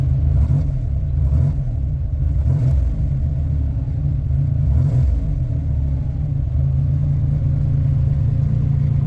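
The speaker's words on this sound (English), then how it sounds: "Car revs really smooth." A car engine with newly installed fuel injectors, freshly tuned with fuel pressure set, hums steadily at a low rumble and swells in a few gentle revs, close and loud without talk.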